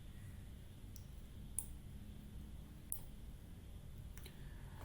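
A few faint, sharp computer mouse clicks, spaced irregularly, sound while working in SAP2000 structural software, with a low steady background hum and no talking.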